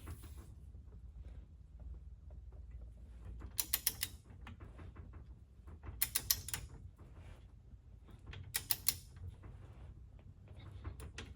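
A wrench tightens a tie rod on a RZR Pro R to 75 foot-pounds, making three separate bursts of quick metallic ratcheting clicks, spaced a few seconds apart, over a faint low background hum.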